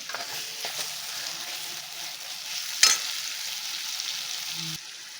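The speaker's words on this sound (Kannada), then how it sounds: "ಟೊಮೆಟೊನ ಸ್ಮ್ಯಾಶ್ ಆಗೋವರೆಗೂ ಇದು ಫ್ರೈ ಮಾಡ್ಕೊಳ್ಳೋಣ" Tomatoes fry in a pan of oil for an Andhra-style fish curry, a steady close hiss and crackle with a few clinks of stirring and one sharp spatter burst midway, no voices.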